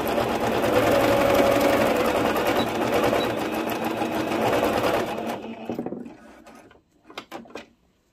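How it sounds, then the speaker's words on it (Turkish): Sewing machine stitching layered elastic for a pleated skirt, a loud continuous whirring run of rapid stitches for about five seconds, then stopping, followed by a few faint handling clicks. "Önce lastiğimizi üst üste yerleştirip bir makine ayağıyla dikiyorum."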